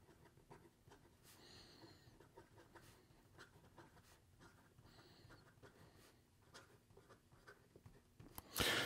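A broad-nib Sailor Pro Gear fountain pen writes a sample on paper, giving a faint, steady scratching and rustle of nib on paper, close and quiet, ending with a louder bump.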